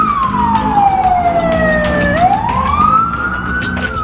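A fire truck siren wails loudly at close range, sweeping down in a long slow tone, then rising again, as fire engines respond to a blaze at an oxygen filling station in Tangerang, Banten.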